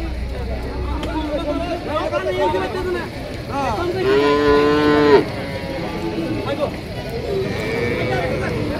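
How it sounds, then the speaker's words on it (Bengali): A milk cow lows loudly and close at a crowded cattle market in Sakhipur, Tangail, one long drawn-out moo rising out of constant chatter and voices from the surrounding crowd. "গরু জোর করে নিয়ে যাইতেছে।"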